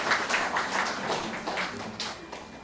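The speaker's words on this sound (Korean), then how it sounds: "여러분 박수 한번 쳐서 우리 축복을" A church congregation breaks into a dense burst of clapping during a service, celebrating a member's new job; the applause is steady and mid-level, fading slightly at the end.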